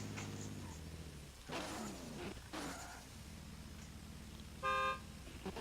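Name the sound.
drift car honking its horn before a run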